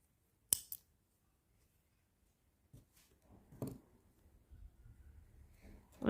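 Scissors snip through knitting yarn, a sharp close cut followed by a second smaller snip, then quiet handling and faint rustling in a calm room.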